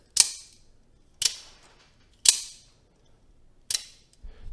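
A Microtech Ultratech OTF knife blade deploys and retracts repeatedly, four sharp mechanical snaps at uneven intervals close by, followed by a faint softer knock at the end, with silence in between.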